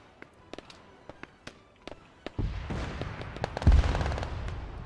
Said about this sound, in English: Rocket goes off.